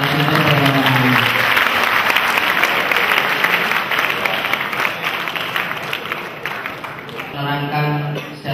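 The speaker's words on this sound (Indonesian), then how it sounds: "Kita beri tepuk tangan kepada para narasumber pada malam hari ini." An evening gathering of students at Pondok Modern Darussalam Gontor breaks into loud sustained applause for the speakers, with a voice talking over the clapping near the end.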